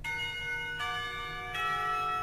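School clock tower bells in the visual novel Katawa Shoujo, three bell strikes about 0.75 seconds apart, each with a bright ringing tone that sustains and overlaps the next, moderately loud with no talk.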